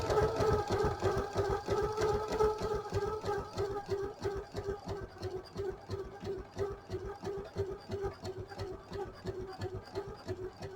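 Home sewing machine stitching fabric fed along the presser bar at a 1/8-inch seam for a see-through project pouch, a steady close mechanical whir with fast regular needle ticking throughout.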